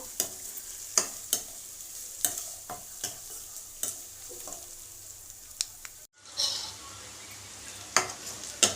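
Chopped vegetables with ginger-garlic paste frying in a pan for a ridged gourd milk curry, a steady sizzle broken by repeated sharp scrapes of a spoon stirring, with a brief pause before the frying resumes.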